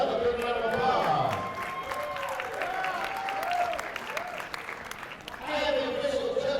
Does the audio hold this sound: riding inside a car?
no